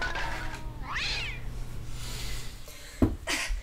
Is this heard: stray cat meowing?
yes